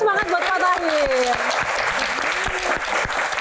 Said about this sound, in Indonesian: Tepuk tangan dan semangat buat Pak Tahir.